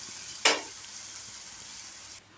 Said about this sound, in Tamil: தக்காளி சட்னி ஃப்ரை பண்ணி வச்சு